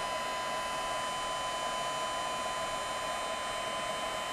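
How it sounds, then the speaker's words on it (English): A handheld heat tool blows steadily to melt embossing powder on a metallic craft piece, a constant close hair-dryer-like whoosh with a faint whine and no variation. "Now I'm going to use my heat tool and emboss that just until it gets nice and shiny."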